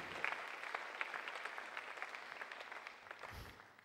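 Church congregation applauding together, a steady, fairly faint patter of many hands clapping that tapers off toward the end, without talk.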